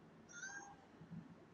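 A house cat gives a quick, faint meow, a short rising cry that fades against quiet room noise with no one speaking.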